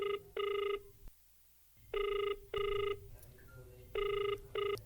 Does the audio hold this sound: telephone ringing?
yes